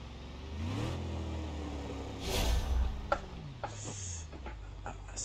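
A Jeep engine in BeamNG Drive idles and drones at a medium pitch while descending a steep trail, with swells of revving and faint knocks and rattles throughout.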